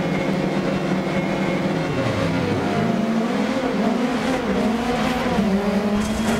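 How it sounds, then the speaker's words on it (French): An MG 6R4 rally car accelerates hard off the start grid in DiRT Rally 2.0, engine note dipping then climbing through rising revs, with other race cars roaring around it, loud and continuous. "ça accélère beaucoup plus fort que la Lancia"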